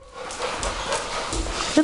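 An excited dog yips and barks in a home, short close bursts mixed with whimpering sounds, fairly loud over steady background noise.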